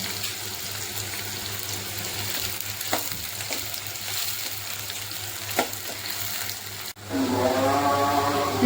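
Onions sauté in a pan for vegetable kurma, giving a steady close sizzle with occasional stirring scrapes, then a brief dip before a louder, bubbling fry resumes near the end.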